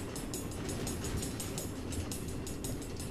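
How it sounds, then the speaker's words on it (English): In the Minecraft: Story Mode video game, an automated train runs on tracks through the Nether with a steady rumbling roll and a rapid, regular clatter of wheels over rail joints, continuous and fairly loud. "Automated train tracks running all through the Nether, connecting all the different order members?"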